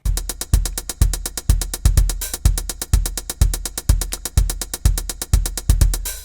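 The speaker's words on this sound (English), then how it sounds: "it's just an Addictive Drums electronic drum kit." Addictive Drums electronic drum kit playing alone: a steady, even pattern of punchy kick thumps with snappy hits on top, repeating at a brisk tempo, close and clean with no talking.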